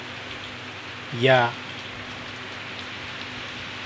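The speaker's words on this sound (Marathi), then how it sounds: "नांदेड शहरामध्ये संततधार पाऊस पडत असल्यामुळे" Continuous heavy rain falling over Nanded city, a steady even hiss of rain on surfaces throughout, with one short spoken word near the start.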